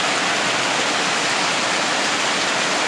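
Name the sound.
heavy monsoon rain falling in Konkan in May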